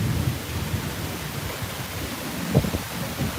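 Summer thunderstorm heard from a front porch in Tulsa, Oklahoma, with the wind picking up; a constant broad hiss of rain and wind with low rumbling and one brief thump, moderately loud and without talk.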